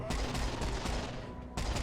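Pistols fire in Serious Sam: Siberian Mayhem, a quick run of loud, close shots that crack one after another and fade into a brief lull before another burst.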